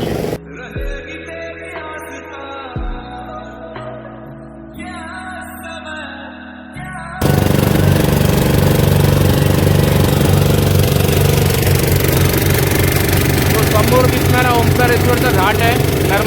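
Boat engine starting up and pulling away, with a rising steady motor drone that turns loud and constant about halfway through after a stretch of quieter sound with a voice.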